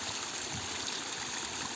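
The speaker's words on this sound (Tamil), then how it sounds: "இங்கே வாங்க பாருங்கள், சின்ன அருவி." A small waterfall stream in a village farm area, its water rushing and trickling in a steady close-up wash with no voices over it.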